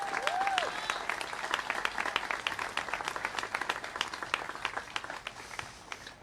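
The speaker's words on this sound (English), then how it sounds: "please join me in giving them a warm round of applause for long years of work here in Adams Street" Warm applause from an audience honoring longtime staff at a Boston City TV event on Adams Street, steady dense clapping throughout, moderately loud with some overlapping crowd sound.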